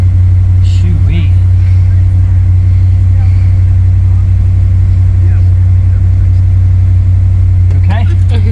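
Truck engine held on high idle, a loud steady drone with a few brief revs rising over it, while people talk over the running motor.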